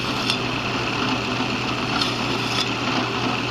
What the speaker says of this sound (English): I won't bore you with sitting through all of this drilling